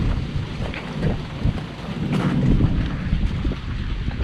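Wind buffets the microphone beside a narrow canal in the Florida Keys, a steady loud rumbling roar with gusty swells and no voices.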